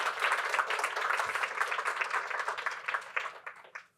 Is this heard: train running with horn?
no